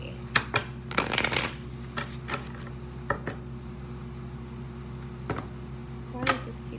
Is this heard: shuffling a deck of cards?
yes